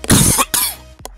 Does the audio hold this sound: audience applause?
no